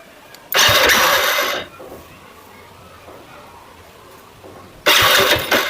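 A Hero Splendor BS6 motorcycle engine turns over in two bursts of starter cranking, each roughly a second long with a harsh mechanical whir, separated by a quiet pause. The engine does not settle into a clear idle.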